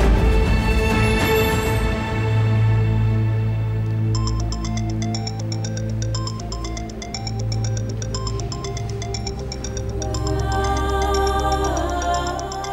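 A mobile phone rings with a repeating, bright melodic ringtone that pulses steadily for several seconds over a bed of dramatic background music in a dubbed TV drama scene; no one speaks.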